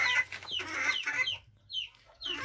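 Chickens, black hens, clucking in close bursts with sharp rising calls, several overlapping then pausing briefly before another burst, with a faint rooster-like crow in the mix.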